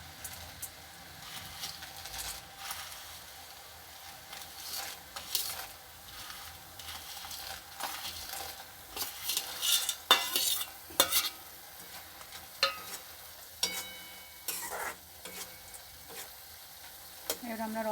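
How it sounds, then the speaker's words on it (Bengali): Boondi being stirred little by little into sugar syrup in a pan, a steady run of soft scraping and wet stirring with light sizzle, close and moderately loud throughout, with a few sharper clinks and scrapes of the spoon. "এখন আমরা বোঁদেটা শিরার মধ্যে দিয়ে দিচ্ছি অল্প অল্প।"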